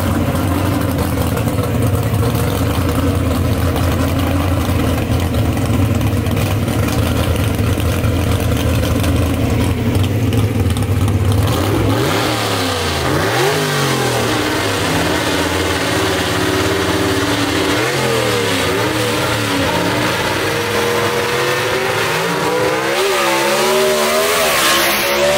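A gasser drag race car with a 289 cubic inch engine roars loudly and steadily, then its pitch swings up and down through gear changes as it makes a pass down the strip.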